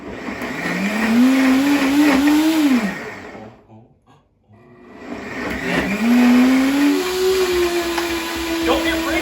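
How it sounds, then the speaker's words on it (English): A blender whirs loudly while mixing raw vegan pad thai sauce, its motor pitch climbing and wavering, cutting out briefly mid-clip and then starting again at a steady high whine. "Oh yeah, you blend it. You blend it good."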